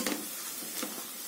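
Torn leftover roti stirred with tomato and onion in a pan, a soft sizzle under a few light scraping stirs, close and quiet.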